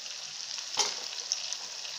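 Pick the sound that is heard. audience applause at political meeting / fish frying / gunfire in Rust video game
fish frying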